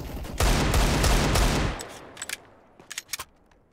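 Gunfire in CS:GO on the Inferno map during a tournament match. A dense, loud burst of rapid shots rattles for over a second, then a few sharper, separate shots crack out after a short pause.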